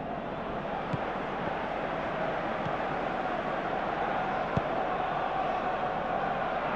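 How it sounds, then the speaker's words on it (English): A virtual stadium crowd in Pro Evolution Soccer 2018 murmurs in a constant, distant roar, with a few faint thuds. "Crowd appreciates good football all round there."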